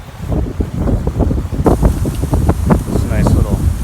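Strong wind gusts outdoors, buffeting the microphone with loud, rough rumbles and bursts, while a person speaks over the noise.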